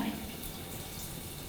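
Tap water runs steadily over hands as soap is rinsed off at a sink, a soft continuous splashing stream at close range with no talk.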